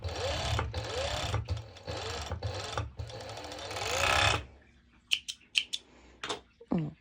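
A sewing machine stitches lining and lycra for swimsuit bottoms in loud, close bursts of rapid whirring, each burst ending in a short pause. The run stops, followed by scattered soft clicks and handling noises.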